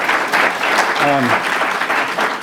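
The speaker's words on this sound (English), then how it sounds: "if everyone would give Akil a round of applause for what he did" Audience at a lecture on greed and corruption applauding the previous speaker, a steady, full round of clapping throughout with a voice briefly heard over it.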